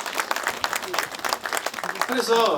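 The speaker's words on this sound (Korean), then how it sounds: "박수!" Applause from a crowd at the unveiling of a general's statue, bursts of clapping that swell and fade under and between bits of talk, ending in a livelier patch.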